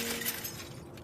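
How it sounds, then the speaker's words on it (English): Glass shatters in a short, bright crash with scattered tinkling fragments, heard close and alone as a sound effect in the Hustle Cat video game. "The unmistakable sound of glass breaking."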